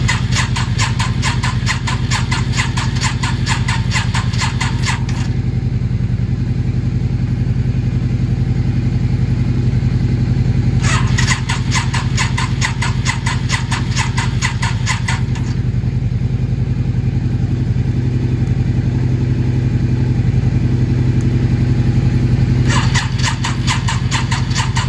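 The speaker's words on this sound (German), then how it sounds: "Wir hören, der Motor dreht, möchte starten." A Yamaha XV 535 motorcycle, a barn find unused for ten years, has its engine cranked repeatedly without starting, with bursts of starter whir and mechanical clatter over a steady low rumble, loud and close.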